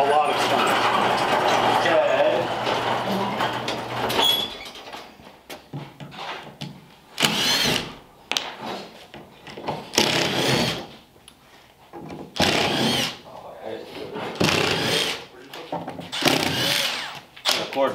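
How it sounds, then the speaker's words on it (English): A screw gun driving screws into the door of a 1932 Ford 3-window, a steady loud whirring drive for the first few seconds, then short bursts broken up by conversation between the people working on it. "Get the screw gun out. There is a lot of screws in it"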